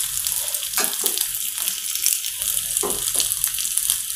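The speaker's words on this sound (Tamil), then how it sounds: "பொடியாக நறுக்கின வெங்காயத்தை இதில் போடலாம்." Finely chopped sambar onions hit hot oil in a pan and sizzle steadily, a bright continuous frying hiss with small crackles throughout, close and fairly loud.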